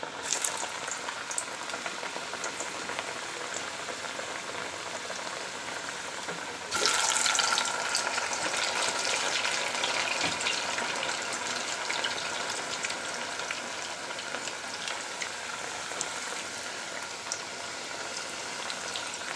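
Coconut-filled pitha frying in hot oil, a steady bubbling sizzle that grows louder partway through as more pieces go in, close and continuous with no voices.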